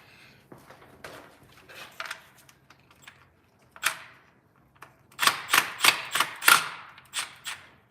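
Bolts on the transmission pan of a 2010 Toyota Tacoma being loosened with a hand tool, a run of sharp ratcheting clicks and clanks that starts sparse and comes in denser, louder bursts near the end, close by with no talk.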